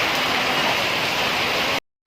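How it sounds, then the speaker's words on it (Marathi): Dense, loud rain pours down steadily as a constant roar, then cuts off abruptly near the end. "खतरनाक पाऊस सुरू झाला"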